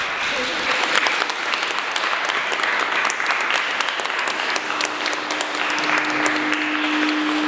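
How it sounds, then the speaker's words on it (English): Sustained applause from a room full of people at a council mayor-making ceremony, dense steady clapping throughout with a faint tone underneath. "A round of applause."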